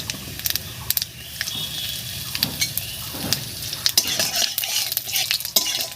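Steady crackling sizzle of cardamom, cinnamon, cumin seeds and a pinch of asafoetida frying in hot oil, with a few sharp clicks and scrapes from a utensil against the pan.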